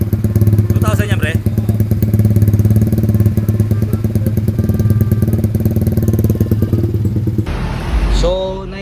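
Motorcycle fitted with an SC Project exhaust held at a steady 2,000 RPM, a loud, even, throbbing engine drone that drops away near the end as it is released, with a voice briefly heard.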